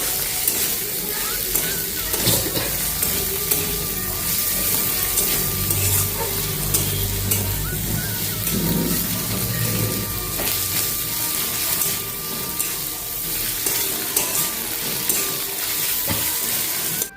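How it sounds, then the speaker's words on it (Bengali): Garlic, chili and chopped onion frying in a pan for a Bengali eggplant dish, stirred with a spatula; steady close sizzle with irregular scraping strokes throughout, no voices. "এবার এগুলোকে আমি ভালো করে এখন নাড়াচাড়া করে নেব"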